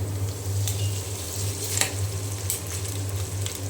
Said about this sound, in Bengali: আর বেঁচে যাওয়া ভাত নষ্ট না করে এভাবে ভেজে খাবেন